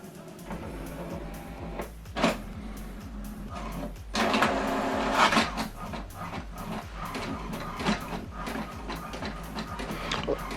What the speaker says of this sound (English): what it's doing now is printing the welcome information that I sent to this printer